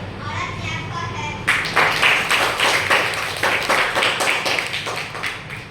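Students in a school classroom clap for a classmate, a burst of many small hands breaking out suddenly and continuing in a quick, uneven rhythm, close and fairly loud, after some quieter background murmur.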